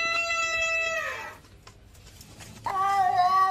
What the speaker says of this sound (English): Your cat is letting you know you locked her up in the coat closet.